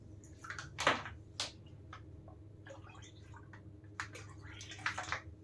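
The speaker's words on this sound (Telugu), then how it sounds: "ఇప్పుడు డెటాల్ వాటర్ని మిక్స్ చేయండి" Quiet sloshing and splashing of water being stirred with Dettol disinfectant in a container, a few soft splashes and drips against a faint background hum.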